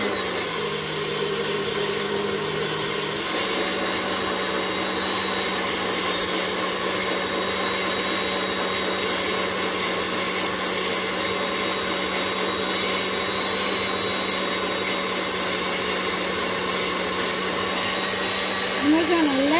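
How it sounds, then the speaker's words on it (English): An electric mixer set to speed 10 whisks a foamy mixture with sugar for a lemon chiffon pie, giving a steady, loud motor whir that carries unbroken through the clip. "And we're gonna let that whisk away until it develops peak."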